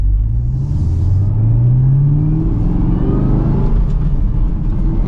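The supercharged V8 of a 2023 Chevrolet Camaro ZL1 pulls hard from first gear, a loud, deep exhaust rumble and rising engine note heard from inside the car, with a shift as the pitch drops and climbs again.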